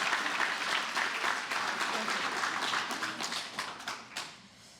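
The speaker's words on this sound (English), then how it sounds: "Round of applause, please, for the Success Foundation." Audience applause fills a hall at the Seattle Southside Chamber and Success Foundation Workforce Discovery Lab graduation, a dense, steady roar of many hands clapping that holds for several seconds before tapering off near the end.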